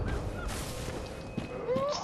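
Bird calls ring out in the gloomy gothic world of the video game Bloodborne: scattered whistling cries over a dense, steady ambient hum.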